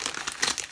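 Crinkling and crumpling of a recyclable paper mailing envelope holding seeds as it is handled and opened, a short, close burst of papery rustles.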